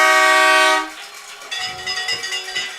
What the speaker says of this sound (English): Is it Libby that has the air horn?